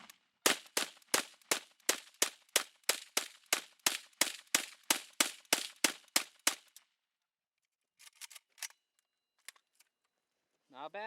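An AK-47 loaded from a Tapco magazine during a dirt test fires about twenty sharp, evenly spaced shots in steady succession. After a pause come a few faint metallic clicks and handling sounds.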